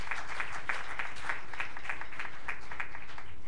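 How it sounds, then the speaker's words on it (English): A church congregation at a Sunday morning service claps in praise to welcome young first-time visitors, giving a rhythmic, moderately spaced run of hand claps that sounds somewhat distant and soft throughout. "Give them a hand clap of praise."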